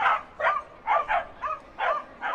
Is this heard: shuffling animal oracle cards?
no